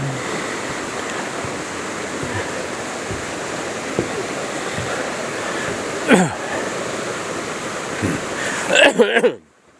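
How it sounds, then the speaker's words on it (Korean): A mountain stream rushes steadily with a broad, continuous hiss, in a village in Gurye, South Korea, with a few brief rustles and knocks near the end. "물이 많네 여기 물소리가 요란하다"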